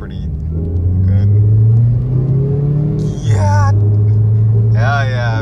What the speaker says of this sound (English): the way I did this mod is like cheating, literally. It made the car sound different.